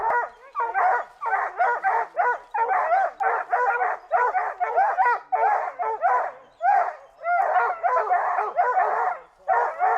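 Several hunting dogs bark and yelp excitedly in fast, overlapping bursts that run almost without pause, loud and close, out in the British Columbia woods during a cougar hunt on Vancouver Island.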